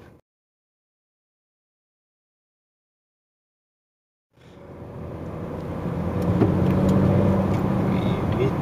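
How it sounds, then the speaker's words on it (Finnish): After a few seconds of silence a car engine swells up and roars steadily louder on a lap of the Hockenheimring race track, loud and close, with voices talking over the engine. "Tää auto huutaa kaasua."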